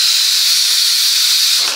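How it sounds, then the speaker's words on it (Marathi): A pressure cooker cooking drumstick curry lets off its whistle as a loud, steady, close-up hiss of escaping steam that holds evenly for nearly two seconds. "हे बघा आपल्या कुकरची शिट्टी झालेली आहे"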